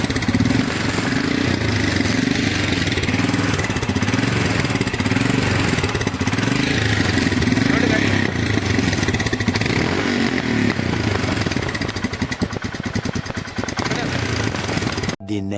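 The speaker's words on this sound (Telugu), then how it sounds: "ఇప్పుడు దీనిలో చూసుకోండి సైలెన్సర్ అయితే ఒకసారి సౌండ్" A Royal Enfield Himalayan 411 BS4 motorcycle idles close by, its exhaust giving a loud, steady low throb that holds evenly for about fifteen seconds before cutting off abruptly.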